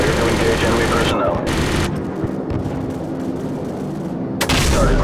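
Heavy, thudding cannon fire from an AC-130 gunship in Call of Duty 4: Modern Warfare, booming repeatedly over a constant engine drone, with radio voices talking over it.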